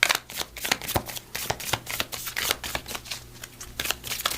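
Oracle cards shuffled by hand for a tarot reading, a close rapid series of papery riffles and slaps in uneven bursts, heard alone without talking.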